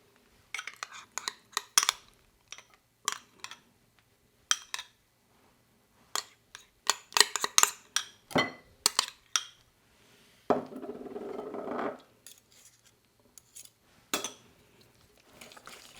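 Butter going into softened cream cheese for a light baked cheesecake, a utensil clinking and scraping against the bowl in short bursts, with a steadier stretch of mixing midway, close and fairly quiet.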